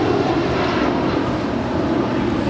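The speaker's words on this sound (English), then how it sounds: "That is United 1700 departing to Newark Liberty. It's a 22-year-old 757-200." A 22-year-old United Boeing 757-200 taking off from LAX bound for Newark: a constant broad jet roar, loud and steady throughout, with no voices over it.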